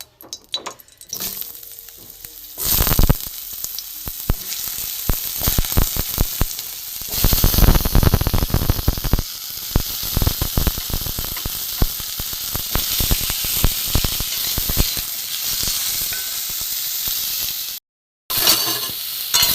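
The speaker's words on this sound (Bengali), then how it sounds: "ওই তেলেতেই আমি কুমড়ো দিয়ে দেবো" Pumpkin pieces frying in oil left from frying potatoes, a continuous close sizzle with bursts of crackling and scraping as the pieces are tossed and stirred, then settling into a steadier hiss.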